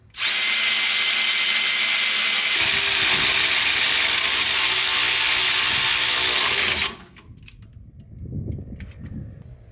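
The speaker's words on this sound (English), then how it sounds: "Now I'm going to start screwing lines in." A power tool whirs loudly and steadily for several seconds while working on brake lines of a 1974 Ford F100, then cuts off, leaving quieter metallic handling noises.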